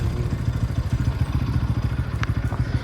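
Motorcycles with about 165 mm ground clearance ride slowly over a rough off-road stretch near Dimbhe Dam, their engines giving a steady, close, rumbling putter with some rattling clatter throughout and no talk.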